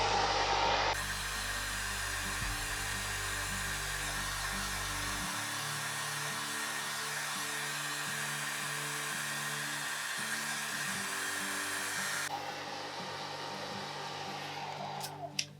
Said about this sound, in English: I'm gonna take my air dryer and put it on a low setting and just blast this whole thing for like 15 seconds.